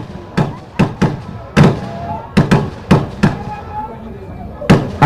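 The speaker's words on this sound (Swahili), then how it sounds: "Mlio wa risasi ziashtue." Gunfire at an army special forces display during an agricultural show, about a dozen sharp, loud blank shots in irregular bursts ringing out over an open showground, with crowd noise beneath.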